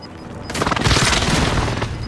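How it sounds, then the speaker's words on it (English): Video game precision airstrike hits after a short quiet moment: a loud burst of booming blasts and crackling rolls on for over a second, then slowly fades. "Precision airstrike."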